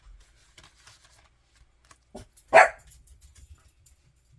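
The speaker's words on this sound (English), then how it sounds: "That was the dog barking." A single sharp dog bark from a nearby room, loud against near silence, with a few soft shuffling and handling noises around it.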